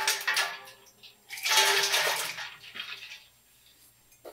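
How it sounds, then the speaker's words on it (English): Water sloshing and splashing inside a gallon glass jar as it is rinsed out in a kitchen, a few close bursts of swirling water with short pauses between them. "Rinsed out our gallon jar."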